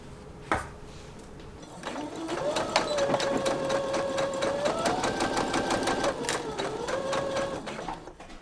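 A sewing machine stitches darts on the back pieces of a pair of pants, running in a steady, fast mechanical whir for several seconds after a sharp tap near the start.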